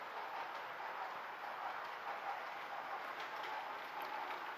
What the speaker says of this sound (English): As it approaches Grahamstown, it slows down.